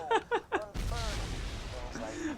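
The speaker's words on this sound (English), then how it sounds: "I just see a bunch of explosions happening wherever you are" Explosions and gunfire in the video game Borderlands 2, a sudden dense burst of rumbling booms and shots that continues under talking, preceded by a few short spoken syllables.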